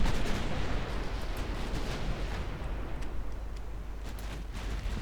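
Battleship secondary guns firing in the naval game Ultimate Admiral Dreadnoughts, a dense, continuous rumble of overlapping booms and low thunder, loud and steady throughout with faint sharper cracks on top.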